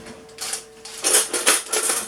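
A knife is run around the inside of a basin holding a soft, freshly cooked steamed pudding, giving short metallic scraping strokes that come in a few bursts, louder and more frequent after the first second, close up with no talking.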